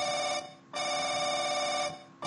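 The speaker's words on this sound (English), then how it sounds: "The phone." A telephone rings in the video game The Haunting, a steady electronic ring in two long bursts separated by a short pause, clear and alone.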